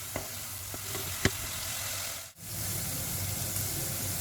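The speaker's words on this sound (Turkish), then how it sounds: "Güzelce pişiriyoruz kıymamızı ve soğanımızı. Soğan iyice öldürelim." Minced meat and onions sizzle steadily in a pan, a close, even frying hiss broken by a few light stirring clicks and a brief dip midway.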